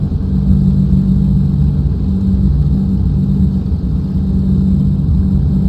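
Steady droning rumble of the Packard Merlin piston engine in a Flight Replicas P-40N Warhawk replica aircraft held at constant power during a magneto check, loud and unbroken with a low throbbing tone.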